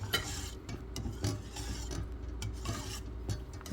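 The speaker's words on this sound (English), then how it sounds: "Then whisk to combine again." Bread pudding mixture of milk and vanilla whisked in a bowl, a quiet rhythmic rasping and scraping that repeats every half second or so.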